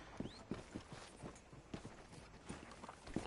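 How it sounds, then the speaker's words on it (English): Horse hooves clop at a steady walking pace in the Western video game Red Dead Redemption, with rhythmic hoof falls, moderately close, over faint background ambience. "I know this horse belongs to Dutch."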